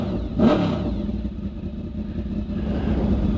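A vehicle engine that is running rich and awaiting muffler repair idles and revs loudly close by, with one stronger rev early on, then holds a rough, steady rumble with no one talking.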